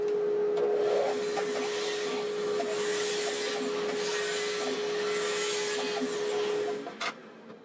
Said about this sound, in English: Take it back to the bandsaw.